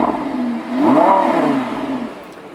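A Lamborghini V10 car engine revs up in a rising and falling sweep, loud and close, then settles back to a steady idle.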